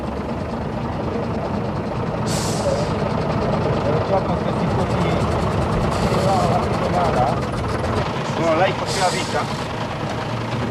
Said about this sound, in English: The supply truck Amarillo, 16 tons.